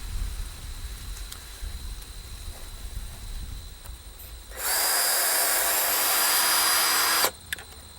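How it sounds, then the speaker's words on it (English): A power drill drives a screw into wood boards while a high tunnel frame is assembled outdoors, a loud continuous whine lasting under three seconds that ends abruptly, set against quiet background noise. "And we'll put 2 more screws in this side."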